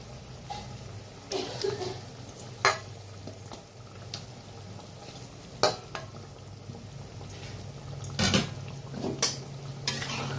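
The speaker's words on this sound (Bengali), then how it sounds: "ঢাকনাটা উঠিয়ে দিই আলু পটলগুলো ছেড়ে দিই" Potatoes and pointed gourd added to a pan for alu potol dalna, with soft stirring, light sizzling and occasional utensil clinks against the pan, close but fairly quiet.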